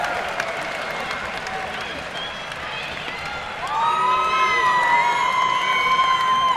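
A crowd cheers and applauds at a live fight event, with clapping and shouting that swell into louder whoops and yells partway through, close and energetic.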